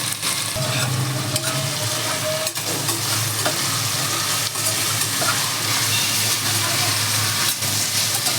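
Mixed vegetables for Gujarati undhiyu are stirred as they fry and sizzle in a pan with spices. The hiss stays loud and steady throughout, with occasional scraping of the spoon, and no voices.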